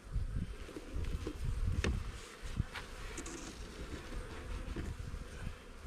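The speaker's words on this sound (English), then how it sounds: "They got bees everywhere." Honeybees swarming around an opened hive during a swarm-prevention inspection, a steady dense buzz filling the air with a few louder passes of individual bees close by, no voices.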